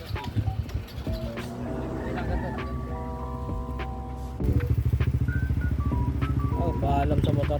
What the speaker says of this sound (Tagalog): napandar na yung motor dito ni Steve